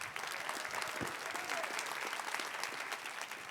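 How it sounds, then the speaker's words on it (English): An audience applauds a conference panel after a Q&A session, a steady, moderately loud round of clapping that carries on evenly throughout. "if we could give our panel a big round of applause"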